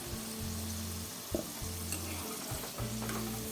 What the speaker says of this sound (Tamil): மறுபக்கமும் நல்லா நமக்கு வந்து பொறிஞ்சு வரட்டும்